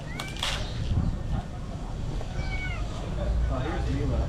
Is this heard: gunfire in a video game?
no